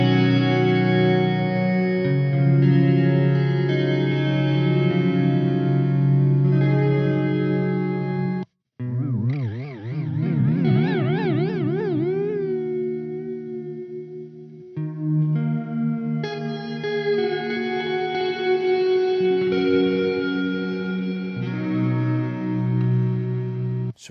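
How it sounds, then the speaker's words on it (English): An electric guitar plays through a pedalboard with an Earthquaker Devices Westwood overdrive, sustaining chords and notes with heavy chorus-like warble, pitch sweeps and echo tails, with a brief dropout partway through. "So we go from Sunlight over into the Westwood by Earthquaker devices"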